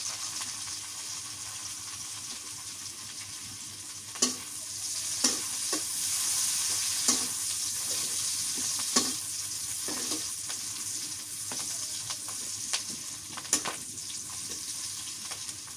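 Chilies frying in hot oil for a fish curry with ridge gourd produce a continuous close sizzle with irregular sharp clacks and scrapes of a spoon stirring, steady throughout and no speech.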